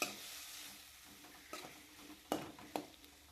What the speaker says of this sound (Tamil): நல்லா வதக்கி விடுங்க. நல்லா வதங்கணுங்க.